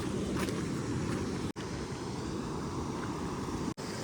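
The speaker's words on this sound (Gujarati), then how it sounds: "આખા જો ખેતરમાંથી પાણી જતું છે." Floodwater pouring off fields into the swollen Ambika river, a loud, continuous rushing roar with wind buffeting and no voices.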